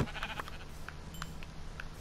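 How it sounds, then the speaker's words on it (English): Sheep bleat in a blocky adventure video game, several short, fairly loud calls spread across the moment over a busy background of game sounds. "I am still searching for another sheep."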